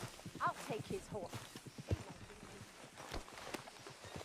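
Horse hooves walking in Red Dead Redemption 2, a steady clip-clop under game dialogue with other faint effects.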